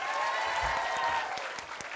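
Audience applause at a live Indonesian comedy show, steady dense clapping that holds for the whole moment and tapers slightly toward the end, with faint voices underneath.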